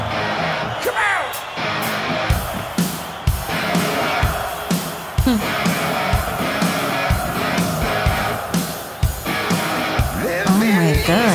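A huge stadium crowd at a Halloween concert at River Plate roars and yells continuously, with rhythmic bursts of chanting and cheering throughout, while a nearby person talks over it.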